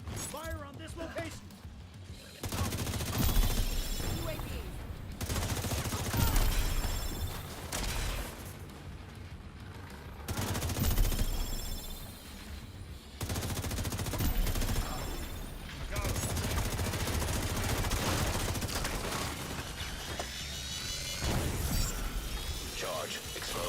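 Gunfire in the shooter SHD Exposed comes in repeated loud bursts and volleys with crashes, separated by short lulls, while voices talk over the action.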